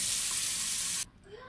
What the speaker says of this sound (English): We're going to rinse our chicken.